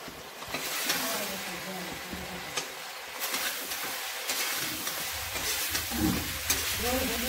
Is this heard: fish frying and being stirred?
yes